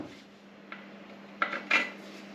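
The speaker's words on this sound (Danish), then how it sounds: "Så får de lige et slag med en hammer, så de sidder fast på benene." Hammer blows knocking metal fittings onto the legs of a feed barrel, two or three sharp metallic clanks close by over a faint steady hum, the last strikes louder and ringing.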